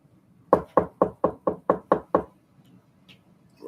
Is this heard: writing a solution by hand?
no